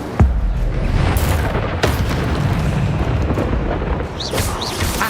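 A fire spell explodes in a Harry Potter video game with loud, rumbling booms and crackling bursts that roll on continuously for several seconds, then fade into a softer whoosh.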